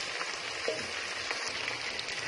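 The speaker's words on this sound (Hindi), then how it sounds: "तो अब मैं इसे 2 मिनट अच्छे तरीके से फ्राई कर लेती हूँ।" Chicken pieces fry in a pan for a macaroni dish, giving a steady, close sizzle with fine crackling spatter throughout the short stretch.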